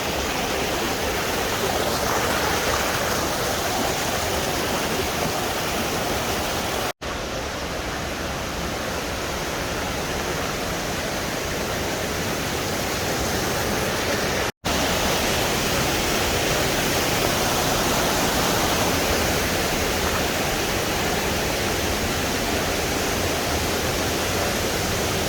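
Waterfall in the Atlas mountains roars with a steady, loud broadband rush of falling water throughout, with no voices, two brief cuts interrupting the constant torrent.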